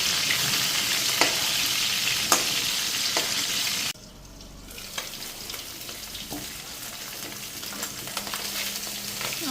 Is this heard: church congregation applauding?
no